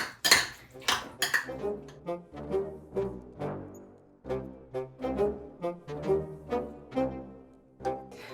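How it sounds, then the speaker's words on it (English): Instant rice being stirred into a bowl for spooky Halloween treats, heard as a steady run of spoon scrapes and clinks against the dish, fairly close, with no talking. "So mix the rice in."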